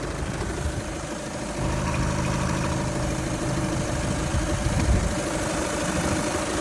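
A 2-litre diesel car engine idling with the bonnet open, a steady low rumble and clatter heard close up and alone, with a slight rise in level partway through.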